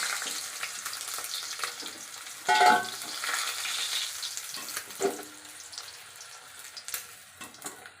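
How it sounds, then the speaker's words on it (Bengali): Freshwater pakal fish from a village wetland fry in oil in a pan, crackling in uneven bursts with a loud flare of sizzle early on and scattered spatters and clinks afterward. "বাকি মাছগুলো ভেজে নেব"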